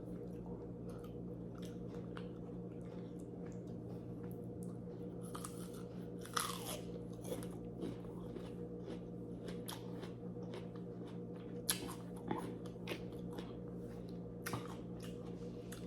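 Someone bites into a fresh, juicy peach and chews it, producing sharp crunchy bites and wet squishy chewing at irregular intervals over a steady low background hum, close up with no talking.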